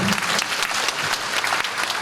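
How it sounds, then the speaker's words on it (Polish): A concert-hall audience at a patriotic sing-along in Oświęcim applauds in a brief, loud, dense burst of clapping heard up close. "Brawa także dla pani."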